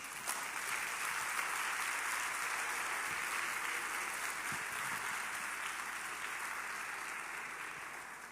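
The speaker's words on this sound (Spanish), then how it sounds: "denle un aplauso al Señor" A church congregation applauds during a Spanish-language service, a soft, distant, continuous wash of many hands clapping that holds steady and fades a little at the end.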